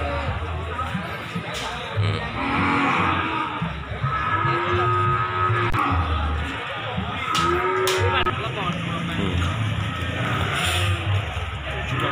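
Large Ongole crossbred (PO) cattle moo repeatedly at a cattle market, low drawn-out calls rising over a busy background of voices and a passing engine.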